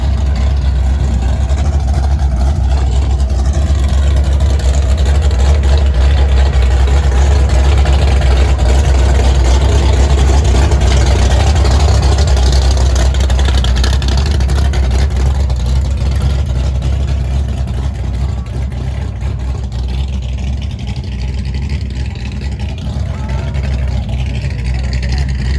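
A car engine drones loud and steady at a drag strip car show, a heavy low rumble that holds for the whole stretch with outdoor crowd noise and a voice now and then.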